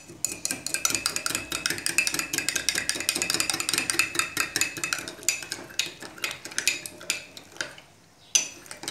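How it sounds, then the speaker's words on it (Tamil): A spoon stirs sugar into a cup of tea with rapid, steady metallic clinks against the cup that run continuously for several seconds, then slow and end in a few separate taps. "அந்த சீனி வந்து கலக்கி விடணும்ல"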